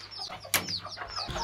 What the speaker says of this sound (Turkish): Buradaki kafesteki civcivlerimize verelim.